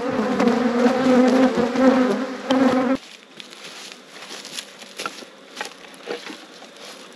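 Honey bees buzz loudly around open hive boxes during a full brood inspection, a dense drone for three seconds that then thins to scattered, fainter buzzing from bees flying close by.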